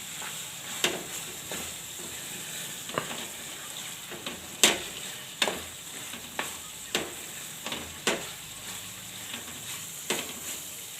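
A spoon scrapes and stirs valor bean curry with coriander in a pan, sharp clinks and scrapes at irregular intervals over a faint steady sizzle, close and moderately loud with no talk.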